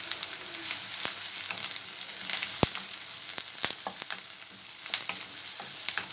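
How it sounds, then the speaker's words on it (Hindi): Chopped medium onions frying in half a cup of hot oil, a steady dense sizzle with occasional sharp crackles and utensil clinks close by, no talking. "दो अदद दरमियाने प्याज मैंने काट लिए, इनको आधी प्याली हम ऑयल गरम करके उसमें फ्राई कर रहे हैं।"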